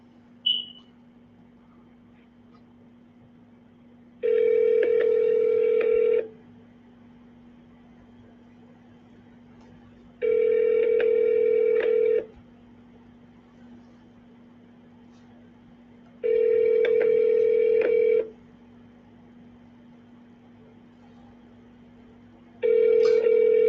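An outgoing telephone call rings back in four evenly spaced two-second tones with long quiet gaps between them, faint and steady over a low hum.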